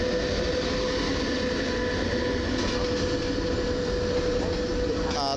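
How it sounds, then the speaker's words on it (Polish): A Koleje Mazowieckie push-pull double-deck passenger train, pushed by a Pesa Gama locomotive, rumbles past close by with a steady, loud roar of wheels and engine and a tonal hum throughout, no voices. "skończy bieg na stacji Warszawa Główna, skład typu push-pull i tym razem jest push"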